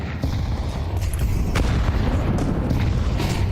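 Two HE grenades exploding in a Counter-Strike match, heard as deep, rumbling booms over a dense, noisy background of game ambience.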